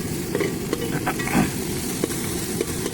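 Ginger-garlic paste frying in oil in a pan for egg curry, a loud, dense, continuous sizzle close up, with faint scrapes of stirring over about three seconds.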